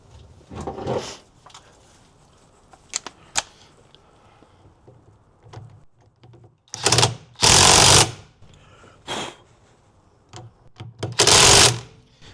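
Impact wrench on a Humvee tightening a roughly 15/16-inch bolt, with several short loud buzzing bursts spaced apart and a couple of longer rattling runs near the end.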